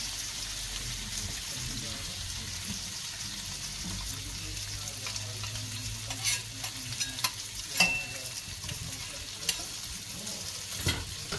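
Monkfish sizzles on a flat griddle with a steady frying hiss and occasional scrapes and clicks of a utensil, moderately close, while a voice murmurs faintly in the background.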